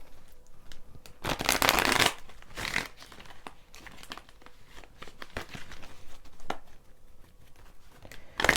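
A Sun and Moon tarot deck is shuffled up close: several papery riffles and crisp card slaps in quick bursts, with softer handling and rustling between them, and no talking.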